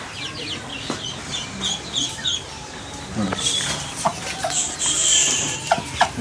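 Ducks being let into a newly built farm pond give off short, scattered clucking quacks, a few at a time and moderately close, over a soft outdoor background.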